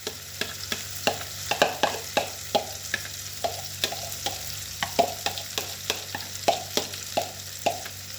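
Herb kuku with grape leaves frying in a hot pan: steady sizzling runs beneath regular, close scraping strokes of a utensil stirring and turning the mixture.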